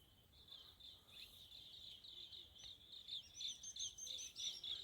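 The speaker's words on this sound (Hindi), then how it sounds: "ये पक्षी भी नर्मदे हर कर रहे हैं।" Small birds chirp and twitter continuously in the forested Shoolpani area along the Narmada, with faint high-pitched calls that grow busier toward the end over soft outdoor ambience.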